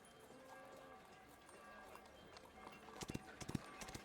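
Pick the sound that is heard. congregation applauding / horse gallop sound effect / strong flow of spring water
horse gallop sound effect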